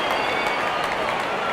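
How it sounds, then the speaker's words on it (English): Crowd applause at a cricket stadium for a batsman reaching fifty in a Pakistan vs Zimbabwe T20 international, a dense, steady wash of clapping and cheering held at an even level throughout. "Good innings and gets a grand applause."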